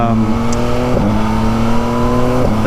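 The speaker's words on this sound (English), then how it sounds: "as you can probably hear, the CP3 engine, very smooth, very torquey" A 2023 Yamaha MT-09's CP3 three-cylinder engine runs steadily at close range, a loud smooth hum with a couple of brief blips in pitch.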